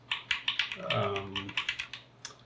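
Close clacking keystrokes on a KBD75v3 keyboard with lubed and filmed Durock 65g linear switches and lubed Durock stabilizers, a quick irregular patter briefly broken by a short tonal voice-like sound mid-clip.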